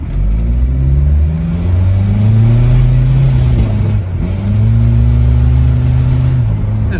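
A manual Volvo 960 fitted with a turbo and a loose wastegate revs hard and loud up through the gears, its engine note rising twice with a short dip at the shift between pulls.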